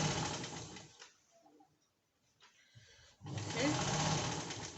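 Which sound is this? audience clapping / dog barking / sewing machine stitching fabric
sewing machine stitching fabric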